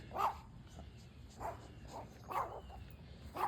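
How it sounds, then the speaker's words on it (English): Dogs bark in the distance, a few scattered yaps and woofs, faint against a quiet outdoor background. "All is quiet but the neighbor's dogs."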